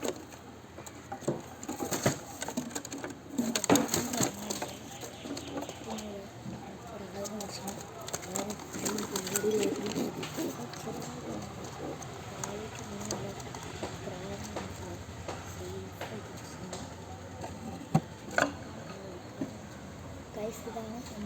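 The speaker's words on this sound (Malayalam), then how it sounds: "ഇതാണ് നമ്മുടെ പ്രാവ്" Pet pigeons coo softly in a home setting, low murmuring calls repeating amid rustling and scattered clicks, with a person talking now and then.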